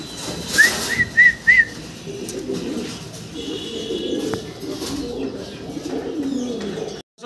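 Pigeons coo in a loft where imported Modern Blue White Bar birds are kept, with a few brief whistling calls near the start followed by steady soft cooing and rustle.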